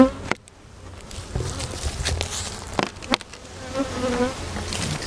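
Honey bees buzzing around an autumn hive, a dense close droning hum with scattered taps and knocks from handling the hive, and no talking.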